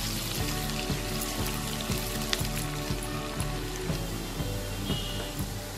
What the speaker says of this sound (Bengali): পেঁয়াজকে একটু লাল করে ভেজে নেব।